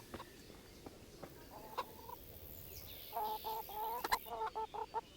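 Chickens in the video game Kingdom Come: Deliverance cluck in quick, uneven bursts, a short call first and then a run of clucks, fairly close against a quiet background.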